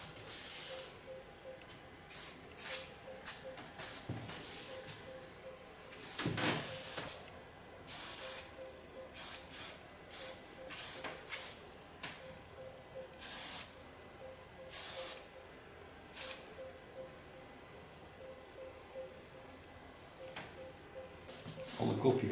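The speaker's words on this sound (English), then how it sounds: "Take a soft hairspray, so you can play with hairs." Soft hairspray sprayed onto hair in repeated short hissing bursts, close and fairly loud, with brief pauses between puffs over a quiet room background.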